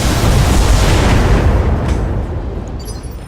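Mech weapons volley in the Battletech video game, with missiles and guns fired together as a dense, loud, roaring barrage of explosive bursts that sustains and slowly fades.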